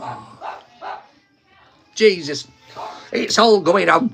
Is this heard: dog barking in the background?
yes